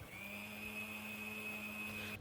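A mixer grinder whirs steadily for a couple of seconds, grinding lightly fried bottle gourd seeds with poppy seeds, turmeric, salt, sugar and a little water into paste, a continuous close motor whine with no talk.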